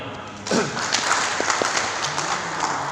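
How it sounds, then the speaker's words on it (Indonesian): An audience at an Islamic preachers' association event in Lampung applauds: a sudden burst of clapping that swells and holds steadily for a couple of seconds, fairly loud, with some thumps mixed in. "Boleh aplaus untuk beliau."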